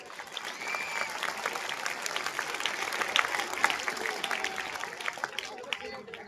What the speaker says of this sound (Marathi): ज्यांचा सन्मान केला त्यांच्यासाठी एक जोरदार टाळ्या.